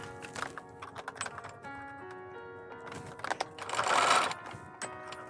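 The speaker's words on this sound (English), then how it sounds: "So let's head to our sewing machine now." A sewing machine stitches a fabric face mask in short mechanical bursts of clicking and whirring, ending in a louder, sustained run of rapid stitching.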